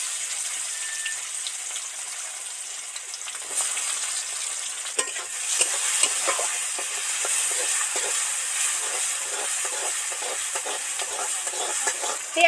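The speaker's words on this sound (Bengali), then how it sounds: "পেঁয়াজগুলো সব সফট হয়ে ভাজা হয়ে গেছে" Onions sizzle softly in hot oil in a pan alongside chilli and bay leaf, a steady close frying hiss with occasional stirring scrapes and no talk.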